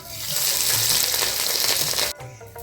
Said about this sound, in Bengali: সিদ্ধ করা ডিমটা এখন দিয়ে দেবো।